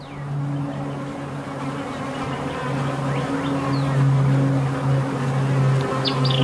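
Honey bees swarm around an open hive during an inspection, a continuous droning hum with steady low tones, and individual bees zipping past the microphone now and then.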